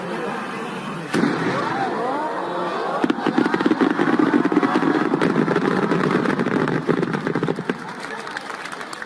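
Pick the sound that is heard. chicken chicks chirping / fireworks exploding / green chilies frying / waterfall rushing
fireworks exploding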